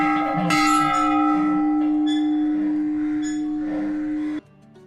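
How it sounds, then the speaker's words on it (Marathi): A large temple bell at Wagheshwar Temple in Maharashtra rings loud and close, with a bright metallic strike and a steady humming tone that sustains for over four seconds before stopping abruptly. "समोर भली मोठी घंटा लक्ष वेधून घेत होती."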